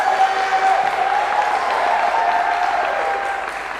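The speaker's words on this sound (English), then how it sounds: "we could get a round of applause now" A student concert audience claps steadily and warmly for the full stretch, a dense, even roar of hands that eases slightly toward the end, with no speech over it.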